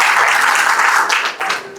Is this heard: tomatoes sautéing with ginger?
no